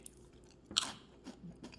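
Crunchy Canadian Froot Loops cereal is chewed up close, with a sharp crunch followed by a few softer bites, quiet overall.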